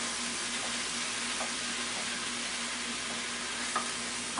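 Vegetables sizzling in coconut oil in a pan, a soft, even frying hiss throughout with a few faint scrapes as they are stirred, no voices.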